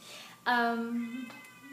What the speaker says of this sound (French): j'ai mon chat qui miaule, qui veut rentrer